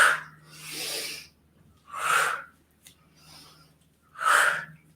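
Rhythmic yoga breathing, three loud breathy inhales or exhales alternating with softer ones, close and steady with no talk, in a heating and cooling yoga flow.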